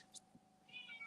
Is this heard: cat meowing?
yes